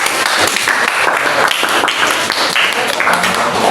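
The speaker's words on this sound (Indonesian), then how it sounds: "tepuk tangan untuk kelompoknya" Classmates at a vocational high school give a student group a round of applause after their presentation: a dense, lively burst of indoor clapping that keeps an even, busy patter throughout.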